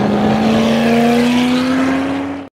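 Dodge Tomahawk motorcycle, a 400 kg machine, holds a loud, steady engine drone near the listener, with one sustained pitch rising slightly for over two seconds before cutting off abruptly.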